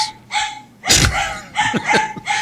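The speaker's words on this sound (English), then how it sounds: "bring dogs that bark like this" A dog gives a quick series of short, sharp, yappy barks, close and fairly loud, with brief gaps between them.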